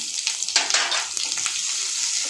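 Ginger hits hot oil for sevai upma, giving a close, bright sizzle with crackles and a few scraping stirs, loudest early then settling into a steady fry.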